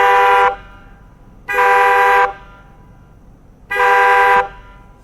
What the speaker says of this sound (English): the air horn function